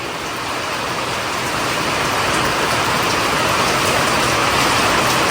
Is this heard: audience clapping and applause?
no